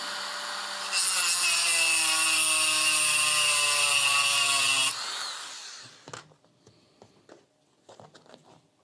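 Drilling into the aluminum body of a one-time padlock: a loud, steady high-pitched drill whine for about four seconds, then the motor stops and scattered clicks and handling knocks follow.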